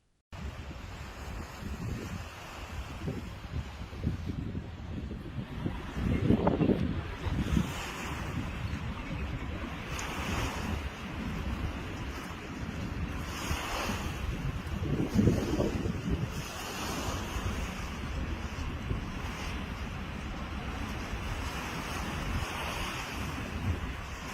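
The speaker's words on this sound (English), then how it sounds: "Those waves were hectic." Rough seas during a Cape Town storm surge, with ocean waves crashing on the coast in strong gale-force wind; a constant roar of surf and wind buffeting the microphone, with louder breaking swells rising twice.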